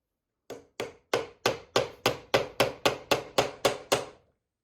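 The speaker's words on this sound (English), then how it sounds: "We're using finishing nails because the plywood's so thin it would probably split." A hammer drives finishing nails into a thin plywood board in a cabin, twelve sharp, evenly spaced strikes in quick rhythm, close and clear with nothing else heard.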